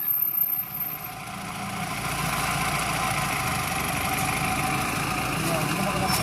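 A safari jeep's engine idles at Debrigarh Wildlife Sanctuary in Odisha, a steady mid-pitched rumble throughout with faint voices murmuring in the background.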